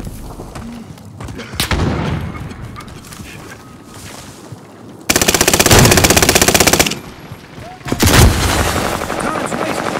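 Loud gunfire fills a Warzone match, with scattered single shots and bursts giving way to a dense, sustained rattle of automatic fire and then a heavy blast, all close and intense.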